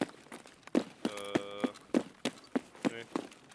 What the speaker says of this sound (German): Du hörst mich rennen, ne?